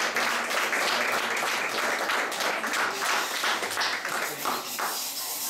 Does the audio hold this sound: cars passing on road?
no